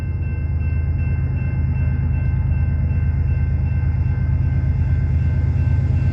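A CPKC westbound freight train rolls past at night at a railway station, a steady, loud, close rumble of wheels and cars with a faint high ringing tone running through it and no pauses.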